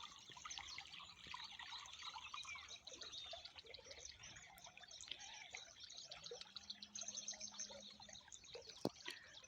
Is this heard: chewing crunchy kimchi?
no